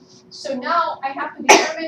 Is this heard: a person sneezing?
yes